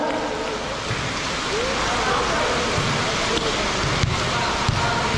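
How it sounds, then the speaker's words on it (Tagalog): Steady rain pours down on an outdoor basketball court during a half-court shooting contest, a dense continuous hiss with scattered thumps of bouncing balls while people talk in the background. "Ano ba naman ulan ito?"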